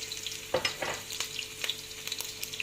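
Chopped onion, seasoned with salt and black pepper, sautéing in a pan with a low steady sizzle broken by close stirring scrapes and utensil clicks, with no talking.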